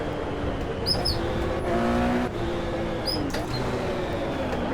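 Race car engine from the 1970 24 Hours of Daytona, a steady broadband drone throughout with a brief louder swell near the middle, while faint high chirps sit on top.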